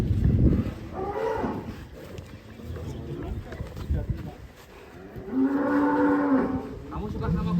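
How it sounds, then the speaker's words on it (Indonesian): Cows pass by close with a few loud, drawn-out moos, one near the start and a long low one later, while people talk over and between the calls. "Sapi mulai lewat."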